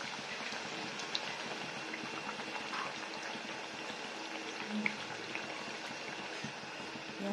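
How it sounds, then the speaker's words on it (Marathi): Puris deep-frying in hot oil, a steady dense crackling and bubbling hiss that runs unbroken throughout with a few faint pops and no voices. "तळत आहेत ह्या पुऱ्या. मस्त. आता ह्या दोन्ही साईडने तळून घ्यायच्या"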